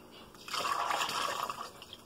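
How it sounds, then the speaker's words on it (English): Liquid poured out of a container while cooking jerk jackfruit, a short steady splashing, gurgling stream heard up close for a little over a second, with no talking over it. "so let me pour this one out"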